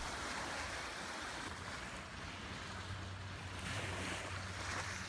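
Lake Como waves wash against a gravel beach at Varenna, heard as a continuous soft rushing of water with wind over the microphone, steady and fairly faint with no talk.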